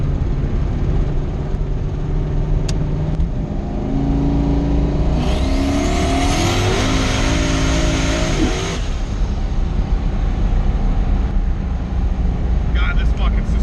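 A Chevstang with boosted engine accelerates hard on the road, its loud engine note rising through the gears with a sharp climbing whine midway, close and continuous, while a voice talks underneath.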